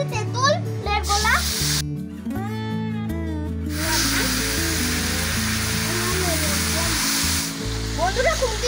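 Tamarind pulp fries with bay leaves in a hot pan for a tamarind and date pickle, giving a steady loud sizzle that carries on under a woman's speech in Bengali.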